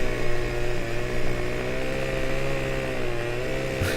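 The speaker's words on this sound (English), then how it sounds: "I don't know where the chainsaw is anymore." A chainsaw in Farming Simulator 2015 cuts a tree, its engine holding a steady, loud buzzing drone close by for several seconds, with no talk.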